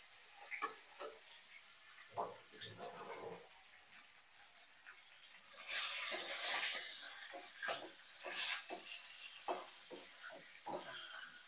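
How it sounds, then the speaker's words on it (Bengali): A bhetki fish head fries in hot oil seasoned with salt and turmeric, giving faint crackling and spitting with scattered pops and a louder sizzling surge midway, close and without speech. "এখন আমি মাছের মুড়োটা ভেজে নেব।"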